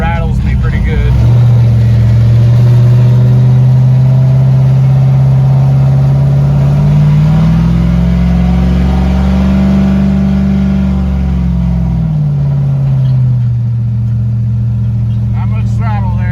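A Chevy Blazer engine with a big cam upgrade and a swapped muffler revs loudly up close, its rumbling drone climbing and falling in pitch over a long, steady run.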